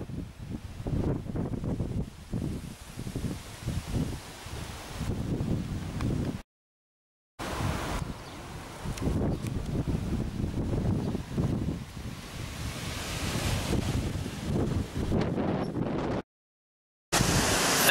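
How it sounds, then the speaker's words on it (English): Strong wind gusting across a microphone at Les Orgues near the Pyrenees, close and loud buffeting roar with fluctuating rumble that persists throughout, broken by two brief silent gaps. "It is extremely windy here"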